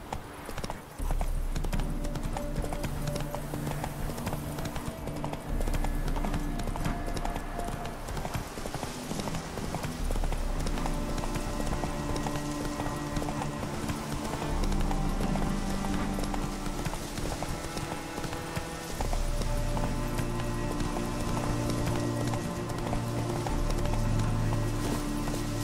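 Steady clip-clop of horse hooves galloping along a road in The Witcher 3, a continuous rhythmic pounding that runs loud and close throughout, layered under game music.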